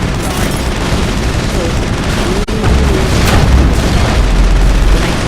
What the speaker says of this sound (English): Oh my god, there's so many explosions.